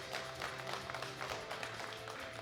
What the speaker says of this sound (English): You can applaud, yes,